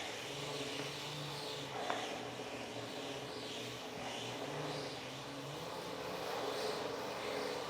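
A bicycle pedaled on indoor training rollers, two rollers under the rear wheel and one under the front, gives a steady whirring hum with low tonal bands, continuous and even throughout with no talk.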